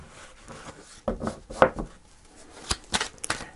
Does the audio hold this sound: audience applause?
no